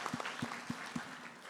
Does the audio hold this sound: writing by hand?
no